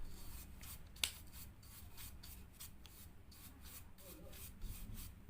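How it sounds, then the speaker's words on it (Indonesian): A brush scrubs slag off a welded workpiece in repeated quick, rasping strokes at a steady rhythm, close and fairly quiet, with one sharp click near the start. "menggunakan kuas ini sebagai pembersih pada benda kerja yang sudah kita las"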